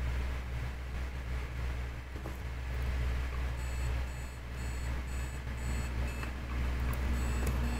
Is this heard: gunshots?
no